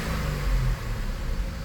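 A 2002 Oldsmobile Bravada, its engine swapped to MS3-PRO management, revs up briefly in a steady, close mid-pitched engine drone that swells and settles over less than two seconds.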